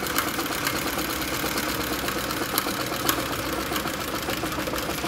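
An AtlasUSA AT2284 sewing machine stitching a small zigzag, a loud, steady mechanical whir with a fast regular needle rhythm that runs unbroken from start to finish, close up and with no talking.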